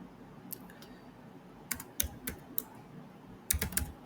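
Keystrokes on a computer keyboard while an SQL query is entered, sparse close clicks in small irregular bursts over a quiet background, with no talking.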